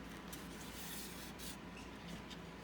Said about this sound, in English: Scrape it off if it's not too bad.